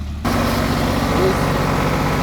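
An auger drilling machine runs steadily at a solar project site during boundary work, a loud continuous low engine drone that starts after a brief quiet moment and holds without a break.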